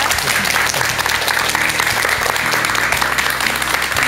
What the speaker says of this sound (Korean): 여러분 박사님께 큰 박수 한번 좀 부탁드리겠습니다.